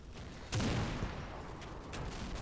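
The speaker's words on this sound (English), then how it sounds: "More AT guns getting in the action." Anti-tank guns fire in the Combat Mission: Battle for Normandy war game, a sharp report at half a second followed by a few fainter distant shots and a rumbling battlefield bed.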